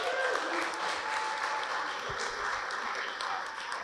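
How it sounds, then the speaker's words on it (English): Wedding guests at Lake Tahoe applaud together in a sustained, even burst of clapping, with a few voices mixed in. "Give yourselves a round of applause."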